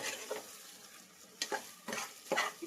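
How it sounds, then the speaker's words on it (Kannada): Vegetables and green chillies stir-fry in a spice tempering with ginger-garlic paste for pulao. A faint, steady sizzle runs under four or five scraping spatula strokes, with no voices. "ಮತ್ತು ತರಕಾರಿನೂ ಎಲ್ಲ ಚೆನ್ನಾಗಿ ಫ್ರೈ ಆಗ್ಬೇಕ್ರಿ."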